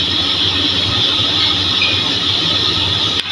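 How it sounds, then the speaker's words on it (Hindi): Electric grinder whirring as it blends tamarind chutney, a steady loud motor drone with hiss, continuous for a few seconds and cutting off abruptly at the end, no voices. "अब हम इसे अच्छे तरीके से इसमें ग्राइंड कर लेते हैं।"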